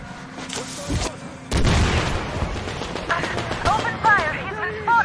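Gunfire erupts in the video game Metro Exodus, a loud continuous barrage of shots and booms after a quieter opening, with voices calling out amid the firefight.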